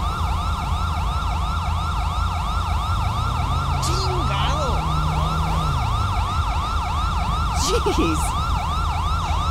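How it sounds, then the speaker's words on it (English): A police car siren in GTA 5 with the LSPDFR mod wails steadily throughout in a repeating up-and-down pattern, loud and continuous over engine rumble, with a brief spoken exclamation. "I don't know why he's got sirens going"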